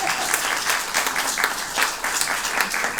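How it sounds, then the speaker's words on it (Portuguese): An audience at a live performance bursts into loud, sustained applause, dense clapping filling the room steadily for several seconds with small swells. "Uma salva de palmas para minha mãe"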